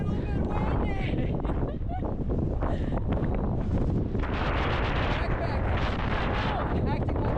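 Strong gusting wind roars and buffets the microphone continuously on an exposed high mountain summit in North Carolina's Black Balsam Knob area, loud and close throughout.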